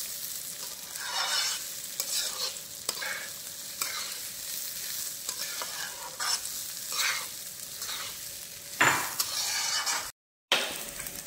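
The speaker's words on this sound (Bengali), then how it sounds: "চালটাকে এবার ভাজা হতে দেবো" Marinated rice for pulao, added after lightly fried cashews and raisins, sizzles steadily in a pan while a utensil stirs and scrapes it in repeated strokes, with a brief silent gap near the end.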